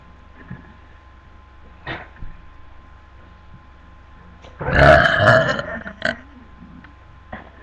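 One long, loud burp during a burp contest rumbles out in the middle of a quiet stretch, lasting about a second. A few faint vocal sounds come before and after it.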